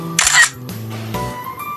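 A camera shutter clicks once, close and crisp, during a photo session with a model on a vegetable farm at an agricultural college, followed by faint lighter mechanical ticks.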